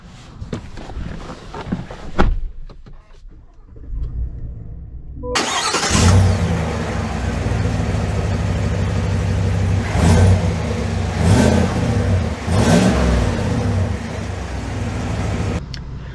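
A 2022 GMC Sierra 1500 AT4X pickup truck engine starts with a sharp burst after a few seconds of quiet handling noises, then settles into a steady, loud, close idle with several revving swells.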